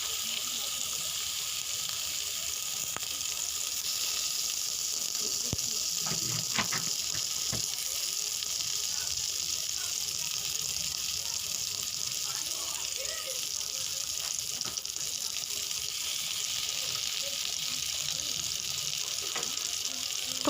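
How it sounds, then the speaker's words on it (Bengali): Pieces of pointed gourd (potol) fry in hot oil over a medium flame, producing a steady bright hiss of sizzling with a few soft clicks and pops of pieces being added. "তেলের মধ্যে আমি সব পটলগুলো এখন দিয়ে দেবো একে একে।"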